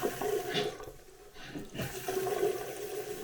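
Water runs in a basic bathroom, a steady rushing flow like a tap or flush that dips briefly midway and then resumes, close and fairly loud with no talking.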